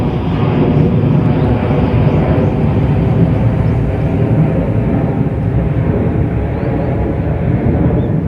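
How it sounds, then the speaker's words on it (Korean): Airplane passing overhead outdoors, a steady, loud broadband engine roar that holds evenly throughout with no voices. "줌을 당겨서 이놈의 비행기"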